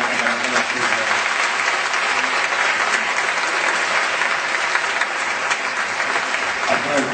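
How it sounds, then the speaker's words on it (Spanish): Sustained applause from a theatre audience at a stage performance in Saladillo, steady and dense clapping filling the whole stretch without a break, loud and close. "al intendente Carlos Antonio de Rosito, fuerte el aplauso para todos ustedes."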